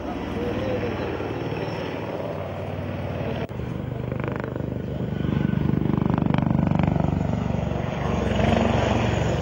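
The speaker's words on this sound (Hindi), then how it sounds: "तस्वीरों में आप देख सकते हैं कि कैसे हेलीकॉप्टर हवा में कलाबाजी कर रहा है और हैरतअंगेज कारनामे दिखा रहा है।" Light combat helicopters perform aerobatics at a Hindustan Aeronautics Limited air show in Bangalore, with a loud, continuous rotor and engine roar that swells slightly midway, as if passing nearer.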